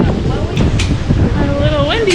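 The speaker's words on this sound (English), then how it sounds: "A little windy for a second." Wind gusts across the open deck of the Regal Princess cruise ship on a sea day, a steady rough buffeting roar against the microphone lasting the whole moment, with faint voices underneath.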